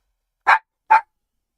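A dog gives two short, sharp barks about half a second apart, close and clear against total silence.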